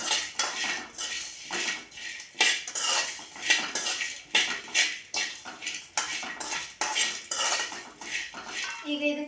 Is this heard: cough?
no